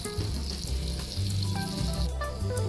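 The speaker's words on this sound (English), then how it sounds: "So I'd like to begin by melting some butter in olive oil, so this will prevent our butter from burning" Butter melts in olive oil in a pan for shrimp scampi with a close, continuous sizzle and crackle, while low hums and a few faint clanks sit underneath.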